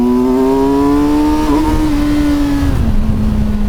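A 2024 Kawasaki Versys 1000 S motorcycle accelerates hard, its loud, close engine rising steadily in pitch with two quick gear shifts between climbs, over steady wind rush.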